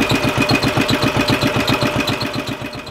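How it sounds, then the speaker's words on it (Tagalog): A motor-driven air compressor runs on a small fishing boat, a loud, close, rapid pulsing engine chug that beats evenly throughout, with no voices. "Tapos papanda rin yung motor."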